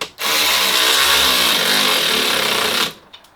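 A power drill whines continuously for nearly three seconds while tightening a fitting on a pressure washing rig inside an enclosed trailer, loud and close, then stops abruptly.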